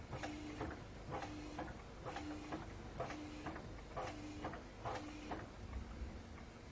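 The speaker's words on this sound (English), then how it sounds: "Inch the press until the knurled knobs have been drawn in by 2 stages and are stationary." A 1988 Heidelberg GTO offset printing press is inched in short runs, with about six evenly spaced mechanical cycles of clattering rollers and a brief tonal whir in each, steady and close with no voices.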